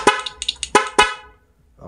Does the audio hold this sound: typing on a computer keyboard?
no